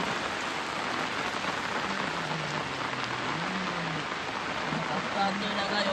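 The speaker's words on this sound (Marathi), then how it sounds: "लय जोरात आला पाऊस" Heavy rain pouring down steadily, a dense even hiss of drops close by, with a voice speaking faintly underneath.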